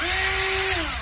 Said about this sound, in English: It's a 1/4-inch drill bit if you're wondering.